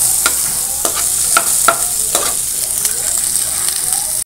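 Onions fry in chicken fat, a loud, close, steady sizzle punctuated by repeated scraping strokes of a spatula stirring through the pan, with no talk.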